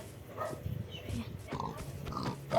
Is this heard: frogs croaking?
no